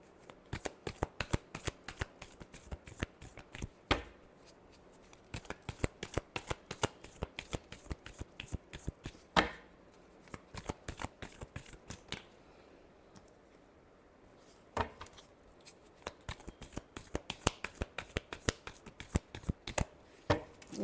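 Tarot cards shuffled by hand in long runs of rapid riffling flutters, close and crisp, with brief pauses between bursts and no talk.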